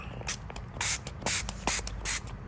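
Several short hissing bursts from a spray bottle of water, quick squirts of mist close by, repeated in an uneven rhythm.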